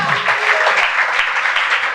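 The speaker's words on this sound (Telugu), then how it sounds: "చప్పట్లు కొట్టండి గట్టిగా." Loud, continuous clapping from a church congregation during a sermon by Rev. Adapa Prasad, steady and dense across the short stretch.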